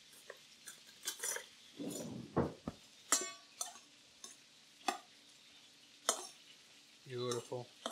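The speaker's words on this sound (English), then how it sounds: "Give this a nice stir." A spoon stirs a lamb kebab mixture with chopped red onion in a bowl, giving close, intermittent clinks and scrapes against the bowl with short pauses between strokes.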